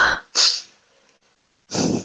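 A person sneezes close by, a sharp breathy burst followed by a second, then a pause before another loud exhale.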